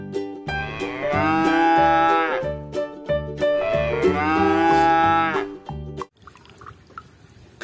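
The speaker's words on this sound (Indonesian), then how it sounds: "Sapi, teman-teman." A cow moos loudly and close by, two long drawn-out calls one after the other, followed by a short stretch of quiet background noise.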